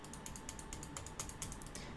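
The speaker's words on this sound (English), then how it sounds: "Maybe you can hear my clicking." Quiet, rapid mouse clicking repeats at an even pace, close up, with no talking.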